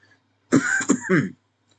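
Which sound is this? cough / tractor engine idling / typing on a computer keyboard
cough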